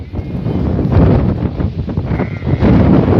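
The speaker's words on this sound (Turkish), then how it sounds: "Şu an tabi sağlam esiyor da" Strong wind on a highland plateau buffets the microphone in a steady, loud roar of low rumble, gusting slightly stronger toward the end.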